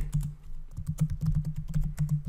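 Rapid typing on a computer keyboard, a dense run of close, crisp key clicks with an irregular rhythm over a low steady hum, no talk.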